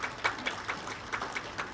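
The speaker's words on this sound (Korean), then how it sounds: "큰 박수 좀 부탁드리겠습니다." Light, scattered clapping from a small gathering at a memorial ceremony for independence activist Jo So-ang, a handful of separate claps rising and fading, fairly faint and with no voices.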